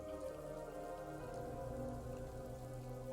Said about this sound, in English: As you ask for rain, it shall rain.